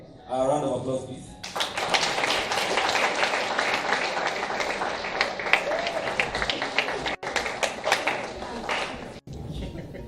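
An audience at a moot court competition final bursts into sustained applause after a short spoken request, with clapping from many hands that stays steady for several seconds and then fades.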